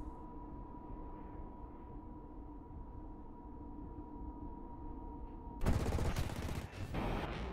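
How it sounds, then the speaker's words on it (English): A steady jet drone gives way near the end to a loud, rapid burst of fighter jet cannon fire aimed at a Mirage, rattling in quick bursts. "Azam was able to aim and hit the Mirage with his cannons."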